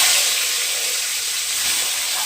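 Rohu fish head coated in turmeric and salt frying in oil in a kadai, a loud steady hiss of sizzling oil close by, continuous and without talk.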